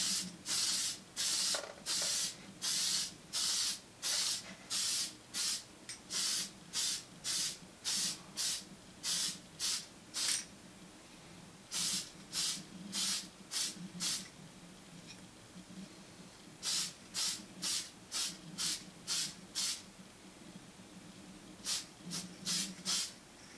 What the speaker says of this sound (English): spray light coats of the Model Master Gloss Black